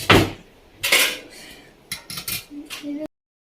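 Plates and dishes clatter in a home kitchen as food is served, with several sharp clinks and knocks in uneven bursts close by, then silence.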